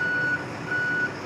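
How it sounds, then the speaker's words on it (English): Two steady electronic warning beeps sound from an M1078 LMTV military truck parked with its lights on, each a clear high tone under a low idling hum, with no talking. "Let me turn my lights off so you don't have to hear that beep."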